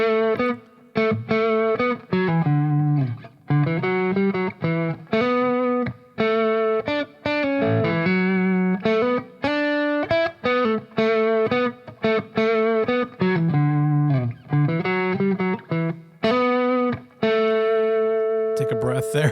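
Distorted electric guitar plays a lead phrase built within one CAGED fingering form, a steady string of picked notes and held bends, close and loud with short gaps between licks and a slightly effected, saturated tone.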